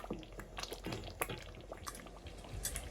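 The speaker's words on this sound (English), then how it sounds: "so this is me actually adding my rice without water" Raw rice is tipped into a simmering pepper stew for Nigerian jollof rice, with faint soft pattering, drips and liquid splashes close by, quiet and without talk.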